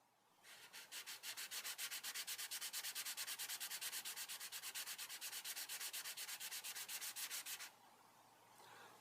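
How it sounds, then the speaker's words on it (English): A saxophone reed is rubbed back and forth on fine sandpaper with rapid, even strokes, a steady run of dozens of scratchy swishes that stops abruptly near the end, heard close up with no talking. "place the table of the reed on a piece of paper or fine sandpaper and lightly move the reed back and forth in the direction of the grain"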